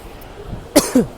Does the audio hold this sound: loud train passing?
no